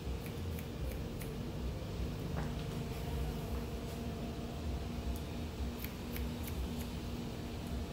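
Scissors make faint, scattered snips while cutting hair horizontally for a layered cut with fringe, the short crisp clicks sitting over a steady background hiss.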